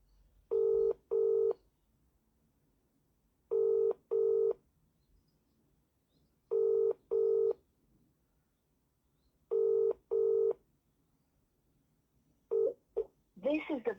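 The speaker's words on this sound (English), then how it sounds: "I'm just gonna ring him a quick call." Mobile phone keypad tones chirp in four spaced pairs as a number is dialed, each pair a short double beep, followed by a brief burst of further tones at the end.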